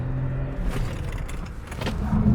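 A Jeep Avenger accelerates hard through a test corridor, its engine a steady low rumble with a rising hum near the end, heard from inside the cabin with no talking.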